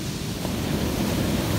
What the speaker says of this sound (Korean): 야, 파도 너무 좋다.